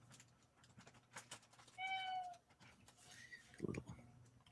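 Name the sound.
cat mewing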